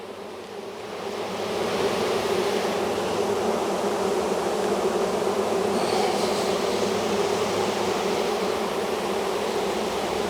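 Honey bees swarming over an opened hive during a spring inspection, with frames of brood and pollen pulled out. A loud, dense, continuous buzzing drone swells in the first second and then holds close and steady, with no talking.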